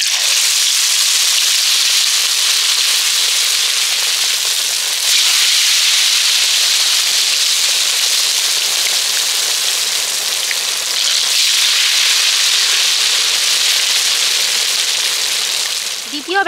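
Stuffed pumpkin leaf rolls deep-frying in a pan of oil, producing a loud, dense, continuous hiss that swells and eases over a long stretch, close and alone with no talking.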